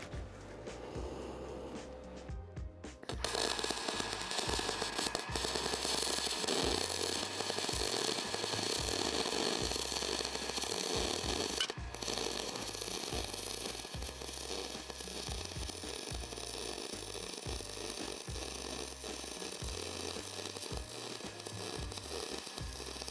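Aluminum MIG welding with a spool gun: a steady, loud crackling buzz starts after a few seconds and runs continuously to the end with no talking.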